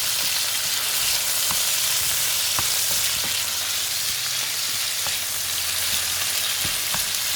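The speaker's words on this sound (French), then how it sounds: "je remue." Rice and golden-browned onions sizzle steadily in a pot while a spoon stirs through them, with scattered scraping knocks over a continuous frying hiss; no talk.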